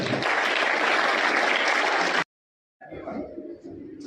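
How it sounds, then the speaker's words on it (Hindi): An audience of local children and staff at a Jawahar Navodaya Vidyalaya school event in Pachpadra, Balotra claps loudly for visiting school students, a dense burst that stops abruptly, then quieter clapping and murmur resume after a short silence. "आपके लिए भी ताली बजाएं"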